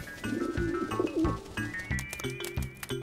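Pigeons coo in a soft, repeated rhythm of low throaty calls close by, with no other sounds over them.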